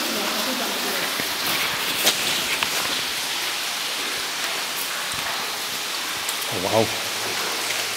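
Steady rain patters and drips inside a wet, abandoned railway tunnel, a constant hiss with a few sharper drops, while a person speaks briefly over it.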